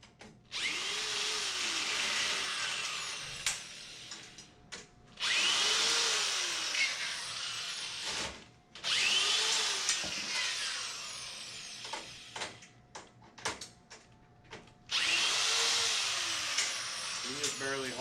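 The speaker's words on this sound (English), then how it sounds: "Let's get our drill and stuff ready." Power drill whirring in repeated long bursts of a few seconds each while a Chinese 125cc motorbike is assembled, loud and close, with short pauses between runs and occasional clanks of tools and parts.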